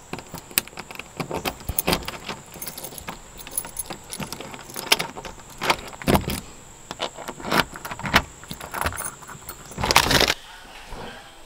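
Keys from a real-estate lock box jangle and clink repeatedly up close at a house being flipped in West Georgia, bursts of metallic rattling over about ten seconds, with a louder final shake and no talking.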